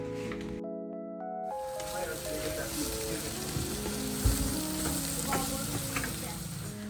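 Onions and mushrooms frying in grapeseed oil in a cast iron skillet, with a continuous close sizzle and crackle under soft background music, plus occasional stirring knocks.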